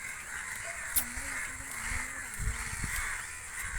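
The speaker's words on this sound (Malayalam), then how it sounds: "ഇതുണ്ടോ ലൈൻ കമ്പിയിൽ ഇരിക്കുന്ന മൊത്തം കിളികളാണ്. കാക്കയും എല്ലാം ഉണ്ട്." Crows perched on a power line caw a few times at a distance, faint under a person talking over steady outdoor background noise.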